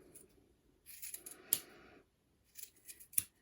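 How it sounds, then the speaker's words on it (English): Scissors trimming macrame cord ends, a few quiet close snips and crisp cuts spaced across a few seconds with soft rustling between. "just cut them along like that"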